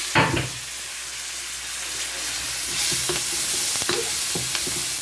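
Chopped tomato being stirred into a sizzling Sri Lankan prawn curry, with a steady frying hiss and scattered scraping knocks of the spoon against the pan, close and continuous.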